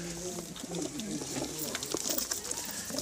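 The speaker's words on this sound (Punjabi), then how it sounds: "ਹੁਣ ਮੈਂ ਤੁਹਾਨੂੰ ਕਰਾਉਣਾ ਕਬੂਤਰਾਂ ਦਾ ਸ਼ੌਕ ਬੱਚੇ ਵੀ ਕੱਢੇ ਦੇ ਨੇ" Breeder pigeons coo softly in a loft, a low throaty warble running for a few seconds beneath faint background noise.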